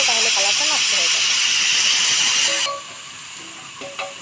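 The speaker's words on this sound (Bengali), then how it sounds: "পেঁয়াজটা ভাজা হতে কিন্তু অনেকটা টাইম লাগে, তো আমাদের অনেকটা টাইম নিয়ে চুলার আঁচটা মিডিলে রেখে আস্তে আস্তে করে ভাজতে হবে।" Onions fry slowly over medium heat for beef tehari, giving a loud, steady sizzling hiss that drops away abruptly partway through while a voice talks over it.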